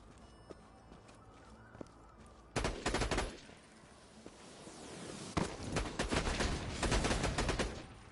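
A gun in the looter shooter Borderlands 2 that fires twice per trigger pull goes off in loud bursts after a quiet stretch, followed by a dense, rattling flurry of shots near the end.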